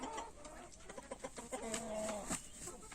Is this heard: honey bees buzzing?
no